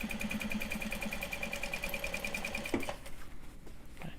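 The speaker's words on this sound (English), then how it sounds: "And now we're gonna stitch it down." A sewing machine stitches a seam on a Japanese fabric Kato bag, a rapid, steady mechanical run for under three seconds that stops abruptly, followed by quieter handling noises.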